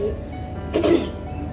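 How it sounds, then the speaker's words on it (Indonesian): A single short cough, brief and fairly close, rising out of a quiet room background with a low hum and no talking. "meskipun agak batuk-batuk sedikit"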